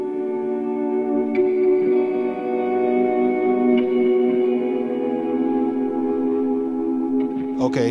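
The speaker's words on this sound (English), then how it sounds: "So this sound is two compressors, no drive, and some kind of weird sound I got in the H9" Electric guitar run through two compressors with no drive plus reverb and delay effects, a sustained clean shimmering tone with soft echoing swells and a brief pick attack at the end, steady and close.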